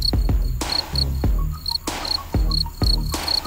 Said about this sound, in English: C-R-I-C-K-E-T, cricket.